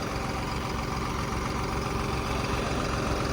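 A Jagga Boss tractor engine idles close by with a dense, even, low rumble that holds steady throughout, and no voices.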